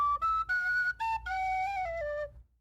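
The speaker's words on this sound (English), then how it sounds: "It's a nice little flute, actually." A Celtic whistle flute plays a short run of clear, bright sustained notes that step upward and then settle into a longer held phrase, close and fairly loud, with no talk over it.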